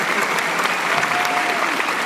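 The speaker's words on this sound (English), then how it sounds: "Guys, a round of applause for Cliff Blazinski from Epic Games." An audience in a live convention hall at PAX East 2011 gives a dense, loud round of applause, many hands clapping at once in a steady wash with no pause across the short stretch.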